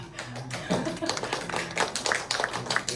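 A child claps excitedly during a church Sunday worship service, quick close-up hand claps in an uneven rapid burst, with some talking in the room.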